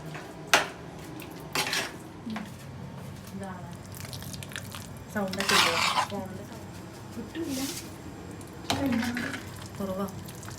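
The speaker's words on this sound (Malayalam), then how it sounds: "പിന്നെ വേഗം തന്നെ കൊള്ളിയൊക്കെ ഇട്ട് മിക്സ് ചെയ്യാണ്" Tapioca being stirred into sardine curry in a pot, with intermittent scraping and clinking of a utensil against the pot and soft squishy mixing, a voice speaking between the strokes.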